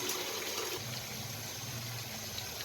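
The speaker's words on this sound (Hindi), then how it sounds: "अब हम इसमें चावल डालेंगे।" Rice is tipped into a pot of water already at a rolling boil for chicken biryani, giving a steady, close watery gush and churning bubble that fills the whole stretch without any voices.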